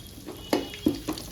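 Ground masala sizzling and frying in a pan for ghee rice, with a few sharp stirring scrapes and clinks over a steady close sizzle.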